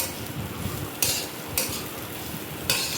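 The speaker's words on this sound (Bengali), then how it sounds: "চিড়ে আলু পেঁয়াজ দিয়ে ভাজা করলাম" Flattened rice frying with potato and onion in a pan, a steady sizzle broken by three sharp scraping stirs of a spatula, close and fairly loud; no talking.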